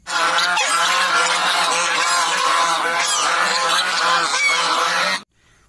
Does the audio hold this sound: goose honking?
yes